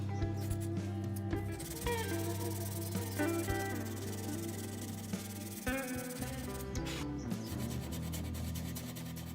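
A steady scratchy rubbing of 150-grit sandpaper against an Epiphone Dot guitar headstock, continuous and close, over a constant low mechanical hum.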